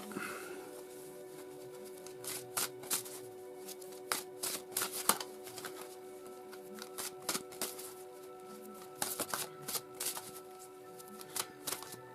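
Oracle cards being shuffled by hand: a soft, close, rapid patter of slipping and tapping card edges that continues in short bursts throughout.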